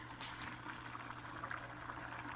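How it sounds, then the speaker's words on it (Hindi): Cooking oil, about three tablespoons, poured into a pan of liver being cooked as kaleji masala, giving a steady close hiss and sizzle with a bubbling, liquid quality throughout. "ये मैंने तेल पहले से रेडी करके रखा हुआ है, कम से कम 3 बड़े चम्मच। ये अब इसके अंदर मैंने डाल देने"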